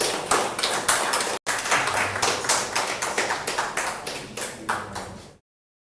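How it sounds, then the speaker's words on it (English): Live audience applause at the close of a session fills the space with dense, steady clapping that breaks off briefly once and then carries on before stopping abruptly. No voices are heard over it. "can we give him a big round of applause"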